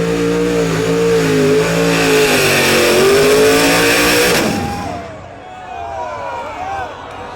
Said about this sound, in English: It just keeps backfiring